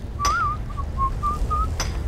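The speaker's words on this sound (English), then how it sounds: "I'm not so great at whistling" A person whistles a short, slightly wobbly tune in a few brief notes while mining iron ore with a pickaxe in Skyrim, with a couple of sharp pickaxe-like strikes and steady low background hum.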